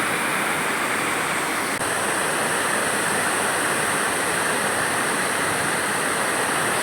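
Steady, loud rush of water falling into temple bathing tanks, a continuous broadband roar with no pauses, like a cascade pouring into a pool nearby.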